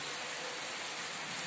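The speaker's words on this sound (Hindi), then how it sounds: "बारिश, रात से ऐसी चल रही।" Constant first-of-winter rain pours through the night onto trees and ground, a dense unbroken hiss at steady level with no talk.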